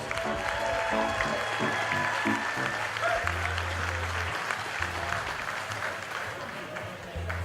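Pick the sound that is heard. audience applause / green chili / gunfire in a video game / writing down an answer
audience applause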